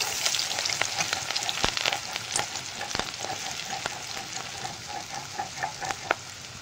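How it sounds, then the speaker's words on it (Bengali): Nigella seeds, green chili and chopped onion crackle and sizzle in hot oil, with sharp pops and spatters over a steady frying hiss, heard close. No one speaks. "সর্ষে পটল রান্না করার জন্য তেলের মধ্যে কালো জিরে দিয়ে দেবো, কাঁচা লঙ্কা, পেঁয়াজের কুচি,"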